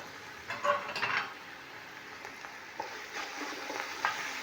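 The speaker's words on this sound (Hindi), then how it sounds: "इसे अच्छी तरीके से इसका मसाले को भून लेते हैं" Masala of red chilli powder, salt and a large green chilli being fried in a pan for chana pulao, giving a low steady sizzle with soft stirring scrapes and a few light clinks, with no talking.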